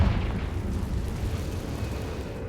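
Confringo spell explosion in Hogwarts Legacy, a deep rumbling boom that starts strong and rolls on as a heavy, fading low roar.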